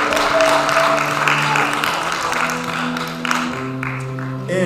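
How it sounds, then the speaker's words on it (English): A church gathering gives a round of applause, a broad wash of many hands clapping at once over sustained music, holding steady and then tapering slightly. "Everybody give the matriarch a round of applause."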